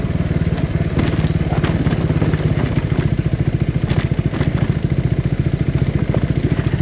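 A motorcycle ridden on rough mountain backroads thumps close and loud with a rapid, regular engine pulse. Rattles and clatter from the bumpy ride come through over it.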